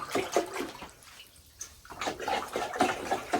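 Plastic mash paddle stirring an all-grain pale ale mash, giving wet sloshing and swishing in uneven strokes with a short pause midway, close and moderately loud, with no talk.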